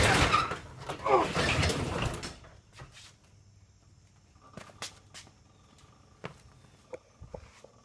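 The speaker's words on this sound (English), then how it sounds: "you hear it starting to want to creak down" A broken garage door gives a loud rolling, grinding rush for about two seconds, followed by scattered creaks, clicks and knocks in a quiet space.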